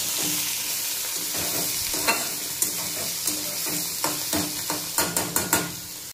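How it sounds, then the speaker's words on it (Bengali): Beans frying in a pan on a home stove alongside cooking rice give a steady close sizzle throughout, broken by a series of spatula scrapes and taps that quicken toward the end, with no talk. "একদিকে ভাত হচ্ছে আর একদিকে বিনস ভাজা হচ্ছে।"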